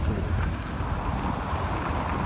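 Wind buffeting a microphone outdoors beside a pink Maserati: a steady, loud, low rumble with no talking.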